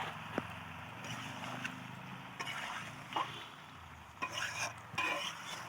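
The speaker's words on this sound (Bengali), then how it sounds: "এইভাবে মাংসটাকে আমি কষিয়ে নিচ্ছি" Chicken pieces frying and being stirred in a pan for a chicken and potato curry, with a low sizzle beneath repeated scrapes and clatters of the spatula; no talking.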